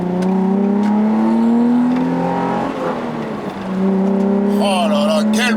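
A Nissan 350Z's 3.5-litre V6 revs loudly up and down at close range, a deep sporty engine note that dips, climbs again, then ends with a brief burst of higher whirring.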